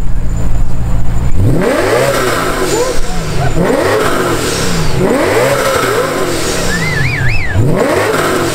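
A BMW engine fitted with American Racing headers and midsection and an active rear exhaust revs hard in repeated rising and falling blips at a car meet in Melbourne. It is loud and close, with faint crowd noise underneath.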